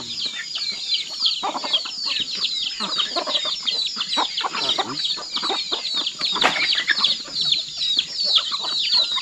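Chickens cluck and chatter steadily in a village of the Tong Lueang people in Laos, a dense, close flock of overlapping calls with occasional sharper squawks and no talking.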